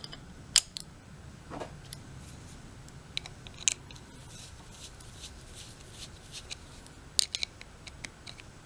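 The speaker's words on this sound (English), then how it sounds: "And we'll tighten down the carburetor." Carburetor being tightened down on a Mantis tiller Model 7225 with an SV-5C2 engine: faint, sparse clicks and ratcheting ticks from close-up hand tools, scattered over a quiet background.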